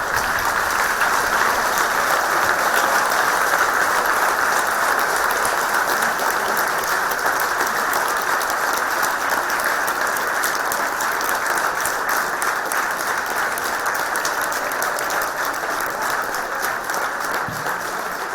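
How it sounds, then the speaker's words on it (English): Sustained applause from parents and faculty standing for graduating students at a medical and technical sciences convocation, dense even clapping that stays loud and steady for the whole stretch. "The parents and faculty, please rise and applaud for the batch of 2015 as they graduate."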